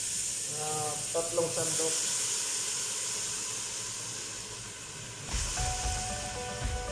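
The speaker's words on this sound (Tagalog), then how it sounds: "Ginigisa ko yung toyo para mas masarap." Soy sauce sautéing in a pan for a big batch of chicken adobo gives a steady steamy hiss throughout, with a person speaking briefly over the cooking noise.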